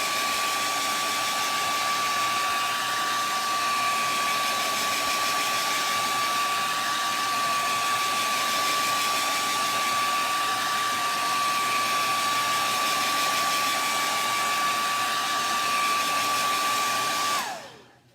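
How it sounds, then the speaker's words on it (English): A hair dryer blowing on chalk paste freshly applied to furniture, a steady whooshing whine running continuously at close range before cutting off abruptly at the end. "I'm going to blow dry this for a second"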